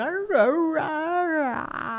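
A husky gives a drawn-out, talking-like howl that rises and falls in wavering, yodeling tones, loud and close, ending in a rough whine.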